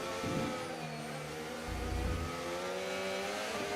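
An F1 car engine in the F1 25 racing game holds a continuous high whining drone that shifts pitch as the car revs and changes gear, with a low thump midway, heard alone without talk.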